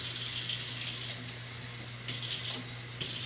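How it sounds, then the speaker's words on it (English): Water from a measuring cup poured into a skillet of whole wheat spaghetti, a steady trickling splash running the whole time, close and moderately quiet with no talk over it. "We're gonna go ahead and add our cup and a fourth of water."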